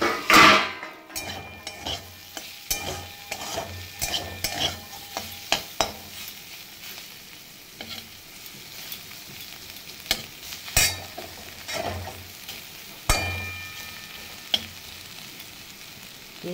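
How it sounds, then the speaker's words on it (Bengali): Bitter gourd frying in a pan with very little oil, stirred with a metal utensil: steady soft sizzle under repeated scraping and clinking strokes, close and fairly loud, with no one speaking. "এইভাবেই ভাজা হয় করলা।"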